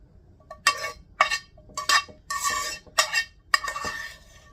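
A spoon scrapes and clinks against a pan while burger bowls are cooked, in about six distinct rough strokes with brief pauses between them, close and clear with no talking.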